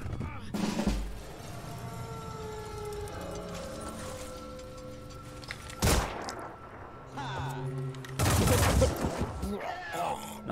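Return gunfire in the tactical game Phoenix Point comes as a few sharp bursts, one early, one near the middle and a longer loud volley later, set against quieter humming game ambience.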